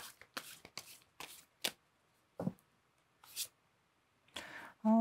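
Tarot cards shuffled by hand at close range, a run of quick crisp riffling bursts spaced by short pauses, quiet and unaccompanied by speech.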